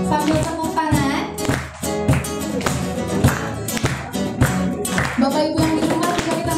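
Rhythmic hand clapping from a church congregation during a worship service keeps a steady beat over loud music with singing, many hands striking together in time.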